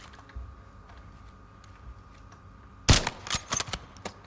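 Sniper rifle shots in the video game Rebirth (Season 4 reloaded), a single loud crack followed by a short burst of smaller mechanical clicks and reports, over a quiet game ambience.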